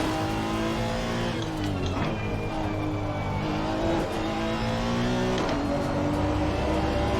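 A 2018 Honda NSX GT race car howls around Spa in Assetto Corsa Competizione, engine revving hard and climbing through repeated upshifts, loud and close with no one talking.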